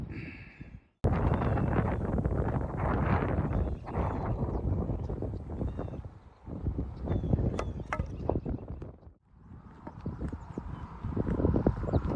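Horse hooves clip-clop on a walking trip through rural Quebec, sounding as a run of irregular close thuds with wind buffeting the microphone and a brief break in the middle.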